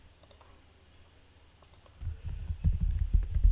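Computer mouse clicks sound as a couple of sharp, faint isolated taps near the start, followed by louder low rumbling handling noise toward the end.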